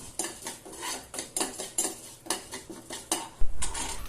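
Coriander seeds, urad dal and chana dal roast in oil in a pan, with repeated clinks and scrapes of a spoon against the metal over a soft sizzle and a low thump near the end.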